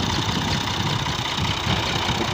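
A tractor engine runs steadily while the tractor sits stuck in mud, a loud close droning rumble with no breaks and no voices.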